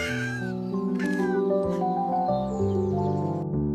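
An injured cat yowls in pain in drawn-out, plaintive cries, heard over sustained tonal music.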